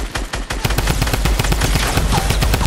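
Loud, rapid gunfire crackles in a Fortnite match, a dense burst of repeated shots that continues almost without pause across the whole moment.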